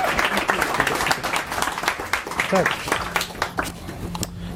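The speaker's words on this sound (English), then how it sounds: "A big round of applause." Applause from a conference audience welcoming a speaker onto the stage, a fairly close scattered clapping that thins out with a voice briefly heard over it.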